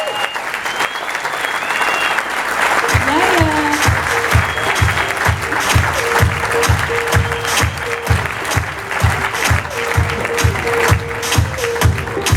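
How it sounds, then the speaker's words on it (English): Audience at a ViSalus training event bursts into loud, sustained applause with cheering, while a strong rhythmic thumping music beat runs underneath for the duration. "Guys, give these folks a big round of applause."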